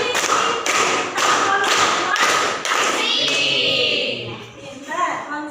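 Children in a classroom clap with their fingers in five sharp bursts at a steady, even rhythm, loud and close. The clapping then stops and a voice speaks softly alongside faint background noise.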